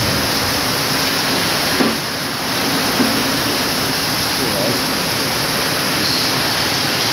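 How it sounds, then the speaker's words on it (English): Heavy torrential rain pouring down outdoors during a storm, a loud, dense, constant hiss with no pauses and no voices. "you can sort of hear the rain trickling down here. It's a little bit torrential."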